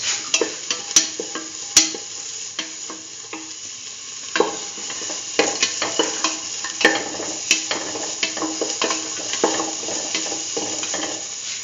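Potato and chayote sautéing in a pan for a stew, a steady sizzle under repeated scraping and clacking of a utensil stirring, fairly close with no talk.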